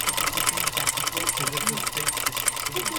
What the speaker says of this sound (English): it's a straight stitch machine, so the little unit itself has to move the fabric to make it do zigzag